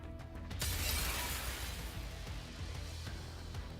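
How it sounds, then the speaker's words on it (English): Glass shatters in a burst of bright crashing shards within the video game Nikke, the loud break fading into a lingering scatter of tinkling debris over low rumbling game ambience. "The familiar and terrifying sound of glass breaking fills the air."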